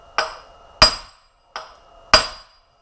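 Four sharp hammer taps, spaced in two pairs, knock a snug part out of a stump grinder cutter head, each metallic strike ringing briefly and close by with no talk.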